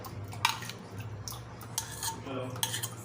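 A spoon stirring yogurt into a raw jackfruit biryani mixture, with scattered clinks and scrapes of metal against the pot and a soft wet churning, close and moderately quiet.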